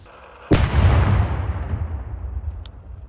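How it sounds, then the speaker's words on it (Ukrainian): A bomb disposal team of emergency service pyrotechnicians carries out a controlled detonation of unexploded ordnance in liberated Sviatohirsk: one sudden, powerful blast heard from a distance, then a long rolling rumble that slowly fades. "підготувати розрахунок для проведення знищення ВНП"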